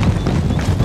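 Massed cavalry horses charge across a battlefield in Empire: Total War with the Darthmod Ultimate Commander mod, a loud, dense rumble of galloping hooves with a gusty, windy roar over it.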